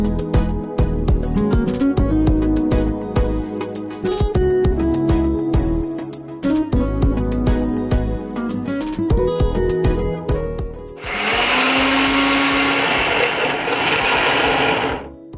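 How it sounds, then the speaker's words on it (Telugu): Mixer grinder (mixie) blending rasam ingredients, starting with short on-off whirring pulses that build into a loud, steady high-pitched grinding roar in the final seconds. "ఓకే, మిక్సీ పట్టుకొని వచ్చేయండి."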